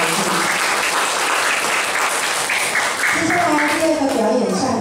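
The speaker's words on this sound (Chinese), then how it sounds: "再次掌声" An audience at a school's end-of-term performance showcase claps loudly and steadily throughout, a dense, continuous wash of applause.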